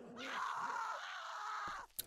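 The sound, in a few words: woman screaming in The Walking Dead video game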